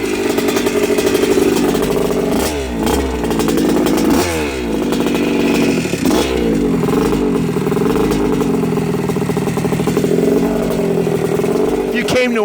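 A restored 1980 Yamaha YZ125 two-stroke motocross bike revs loudly and close, its engine pitch rising and falling in repeated blips over a steady buzzing idle.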